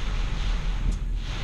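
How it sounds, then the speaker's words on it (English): Wind gusts and heavy rain from Hurricane Matthew in 2016 make a steady, loud, hissing rush with low buffeting rumble, with no voices. "We're getting some 35, maybe 40-mile-an-hour wind gusts, but for the most part it's just a lot of rain."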